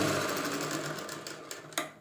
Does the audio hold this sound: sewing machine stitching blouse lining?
yes